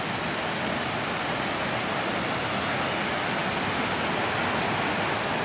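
A waterfall at a Jirisan mountain prayer site roars in a dense, unbroken rush of falling water on a rainy day, loud and constant throughout.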